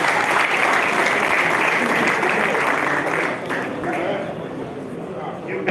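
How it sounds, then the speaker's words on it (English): An audience applauds at an honoree celebration, a thick continuous wash of clapping that thins slightly toward the end, with a murmur of crowd voices underneath. "A round of applause for him."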